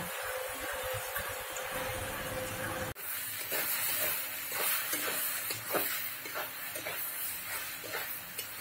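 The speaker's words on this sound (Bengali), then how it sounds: "আর এদিকে চাল কুমড়ো ভাজি করছি" Ash gourd (chal kumro) frying in a pan, a steady close sizzle and hiss broken by a sharp jolt and then scattered pops and crackles, with no talk.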